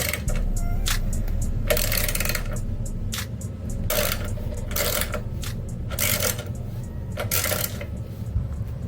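Ratcheting bursts about once per second while nuts are tightened down to mount a power washer motor, each burst short and crisp over a steady low background hum.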